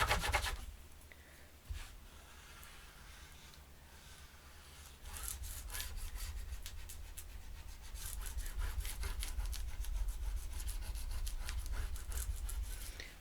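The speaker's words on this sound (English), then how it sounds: "I'll go ahead and burnish this way" Bone folder burnishing paper on a handmade mini album cover, a soft dry rubbing that turns into rapid back-and-forth scraping strokes, close and quiet.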